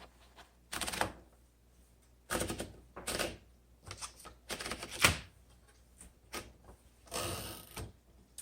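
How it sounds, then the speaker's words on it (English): Keys being typed on a 1957 Remington Quiet Riter manual typewriter: bursts of clacking strikes in uneven rhythm with pauses, close and fairly loud, with one sharper, bell-like hit partway through. "let's go ahead and type on this and see how it does"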